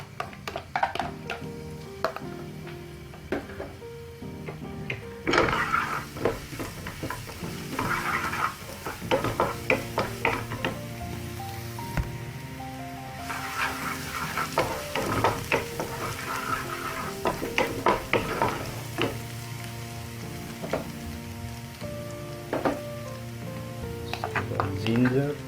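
Garlic frying and being stirred in hot oil for a vegetable Manchurian dish, with steady sizzling and repeated scraping stir strokes running throughout, close and moderately loud, with a voice talking over it.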